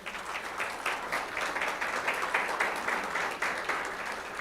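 A church congregation applauds steadily for several seconds, a dense, even wash of many hands clapping at once, moderately loud and without a break.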